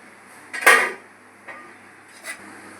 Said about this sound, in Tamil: எண்ணெய் காஞ்சோடனே பட்டை, கிராம்பு, ஏலக்காய் மசாலா பொருளாக சேர்த்துக்கலாம்